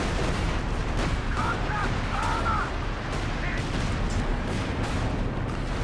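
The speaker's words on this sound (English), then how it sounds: "Light artillery barrage coming in" A light artillery barrage rumbles in a Company of Heroes 2 3v3 match, with dense, continuous low booms and battle noise under a voice talking throughout.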